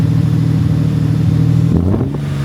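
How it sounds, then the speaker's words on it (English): An old imported car engine, a rare model running on old fuel, idles and revs in a couple of quick throttle bursts near the end, close and loud with a steady low rumble. "Give it a couple revs"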